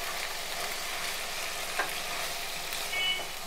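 Spoon stirring brinjal curry with mustard paste in a pan, a soft steady scraping and faint sizzle, fairly quiet and continuous.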